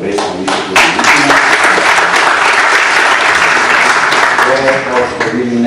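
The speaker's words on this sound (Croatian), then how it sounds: "mislim da su i oni zaslužili aplauz" An audience breaks into applause at a meeting of an epidemiology society, with dense, loud clapping running continuously throughout and some faint voices mixed in beneath it.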